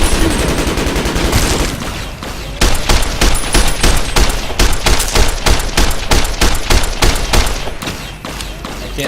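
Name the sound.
plasma rifle shooting in Fallout New Vegas video game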